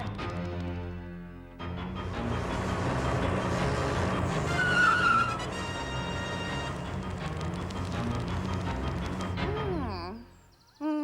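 A cartoon truck brakes hard and skids, a brief screech rising out of busy background music with voices, before the scene cuts off.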